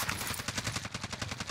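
Sustained automatic gunfire in a video game, a fast, even rhythm of shots aimed at the player, fairly faint and continuous with no talking over it.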